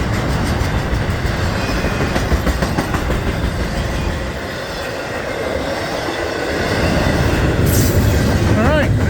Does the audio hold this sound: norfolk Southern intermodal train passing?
yes